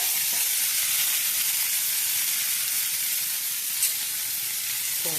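Onion, ginger and garlic go into a hot pan for a chicken curry, producing a loud, continuous hissing sizzle that holds steady throughout with a small clink near the end.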